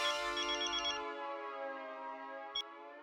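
A telephone ringtone plays a steady electronic melodic tone that sustains for about three seconds, close and clear, with a short beep near the end and no voices.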